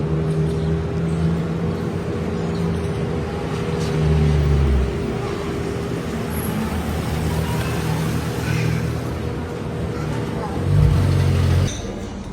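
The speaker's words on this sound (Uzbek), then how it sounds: "obed mashinamiz kelyapti" A lunch delivery car pulls up, its engine rumbling low and swelling briefly near the middle and again toward the end, with people talking nearby throughout.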